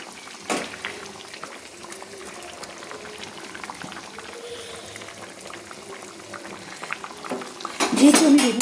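Bata fish sour curry with potato, cauliflower and fried eggplant simmers in a pot, a soft continuous bubbling with faint clinks of utensils and a louder scrape near the end.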